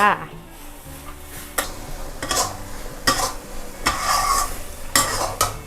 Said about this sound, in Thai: ผัดไปเรื่อยๆนะคะ จนเส้นมาม่าสุกค่ะ